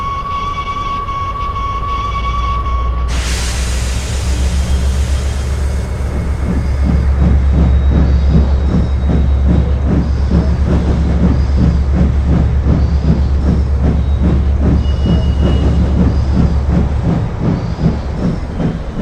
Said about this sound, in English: He rolled quickly over the crossings and backed onto the train.